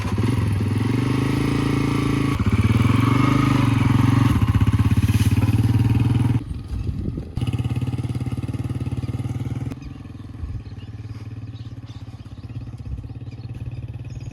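A motorcycle engine running steadily, loud and near, while the bike carries a tubewell motor on a small four-wheeled trolley up an incline, with a rattling clatter and shifts in engine load.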